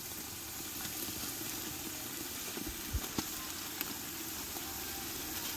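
Coconut and garlic frying in oil for a rustic mutton dish, a steady soft sizzle with a few faint pops, close and continuous with no talk.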